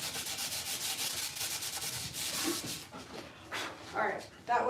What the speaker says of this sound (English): It's powdered when you sand it.